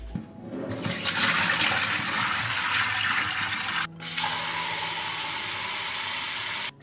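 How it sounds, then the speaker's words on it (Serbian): Water pours out and a container is refilled with fresh cold water from a tap while cooking. The rushing flow is loud and steady and close by, with a brief break partway through before the stream resumes. "prosut ću ovu vodu i nalit ću čistu hladnu vodu."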